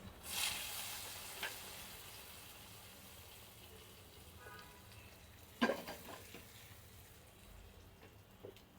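Crushed onion and garlic poured into a pan start a soft, steady sizzle, joined by a short burst of louder crackle and stirring near the middle, quiet overall with no voices.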